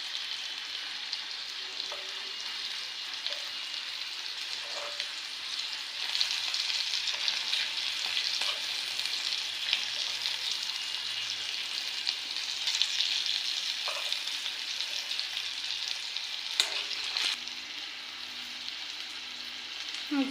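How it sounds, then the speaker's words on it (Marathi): Masala okra with curry leaves frying in a pan, a constant fine crackling sizzle held steady and close, with occasional soft stirring taps and clicks and no voices. "अजून 5 मिनिट फ्राय करून घेते."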